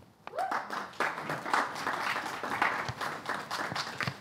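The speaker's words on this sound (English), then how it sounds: "with a round of applause, let's make welcome Hubert and Millie." Audience applauding to welcome candidates at a student union election question time, a moderate round of many hands clapping in a hall, fairly faint and steady.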